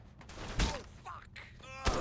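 Gunfire in Saints Row the Third: a few scattered sharp bursts and shots, with louder cracks near the start and end, mixed with game voices and whooshing effects.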